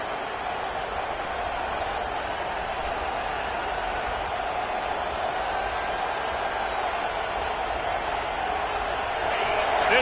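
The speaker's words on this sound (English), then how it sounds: "This crowd trying to make life miserable for this offense." A football stadium crowd keeps up a steady, dense roar that swells a little louder toward the end, heard at a distance like a broadcast backdrop.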